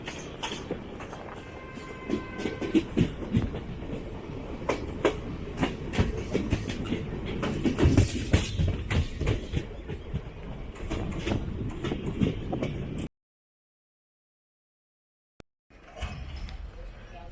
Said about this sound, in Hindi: अब ट्रेन बुड़वल पहुंचती हुई